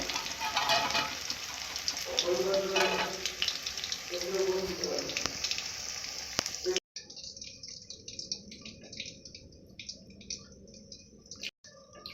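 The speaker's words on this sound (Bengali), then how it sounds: "ভালো করে ভেজে নেব এইভাবে" Spices for a meat masala fry in a pan with a steady, dense sizzle, loud for about seven seconds, then fainter crackling after a sudden drop, with a brief cut near the end.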